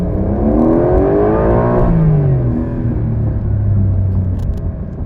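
A 2026 Porsche 911 Carrera 4 GTS T-Hybrid (992.2) engine downshifting, loud close revs that climb and then step down through the gears under a steady rumble and whir.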